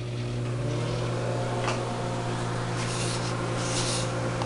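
A steady electrical hum with a low mains-like drone from a microwave oven heating a fondant mixture, continuous and fairly loud with no voices.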